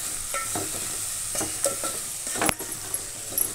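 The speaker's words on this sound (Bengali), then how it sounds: "দিয়ে ভালো করে আমি ভাজা ভাজা করে নেব মশলার সাথে।" Spices fry with pumpkin and potato for a Bengali-style dish, sizzling steadily while a utensil scrapes and stirs in repeated strokes close by.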